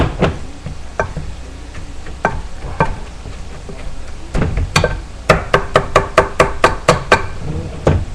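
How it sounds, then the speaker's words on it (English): Cooked spaghetti squash being mashed in a bowl, a run of sharp knocking taps from the masher hitting the bowl, irregular at first then a quicker rhythmic series near the end, close and clear with no talking. "The spaghetti squash isn't squashing as much as the other one is, but it's mashing up sort of like mashed potatoes"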